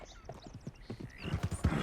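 Horse in the video game Red Dead Redemption, in the town of Valentine: a quick run of hoof clip-clops rising into a loud, close whinny near the end, alone without speech.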